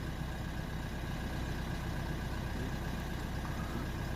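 A Renault Trafic diesel van with a clogged particle filter idles steadily at close range, a continuous low rumble that holds even and unchanging throughout, with no voices over it.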